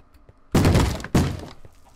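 A Minecraft zombie bangs on a wooden door, two heavy thuds about half a second apart, loud and close against a quiet game background.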